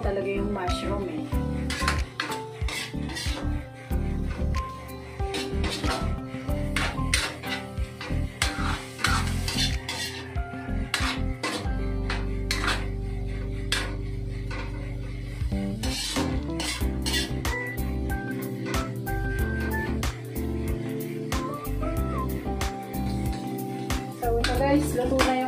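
Mushrooms cook in a pan for homemade carbonara, with repeated clattering scrapes and knocks of a utensil stirring against the pan, close and busy throughout, while a person talks over it.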